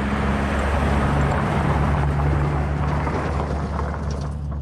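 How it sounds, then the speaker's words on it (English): A truck passing a forest wild camp, a loud low rumbling engine drone that holds steady then slowly eases off, heard close with no talk. "that was a truck and"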